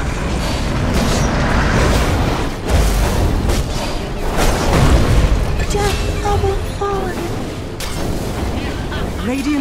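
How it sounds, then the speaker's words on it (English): Dota 2 match with Radiant's middle tower being destroyed, dense layered game effects and booming impacts sustained throughout, with rising tonal chimes near the end and some voice mixed in. "Radiant's middle tower has fallen."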